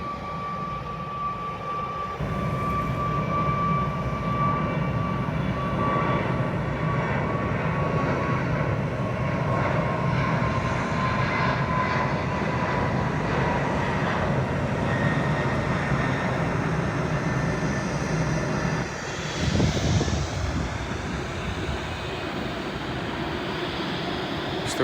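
An aeroplane engine roars continuously at an airport at sunset, a loud sustained drone with a steady high whine that shifts slightly near the end.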